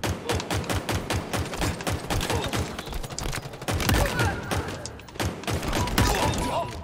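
Pistol shots and combat noise in the Halo Infinite video game, repeated loud cracks and thumps in quick succession over a busy, dense game soundscape.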